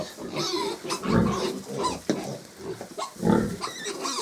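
Week-old piglets grunting and squealing up close, a busy, continuous stream of snuffly oinks with a few louder bursts.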